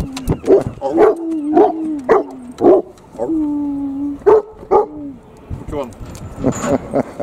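A dog barks repeatedly at close range, a string of short yelping barks with whiny, tonal edges and brief pauses between bursts.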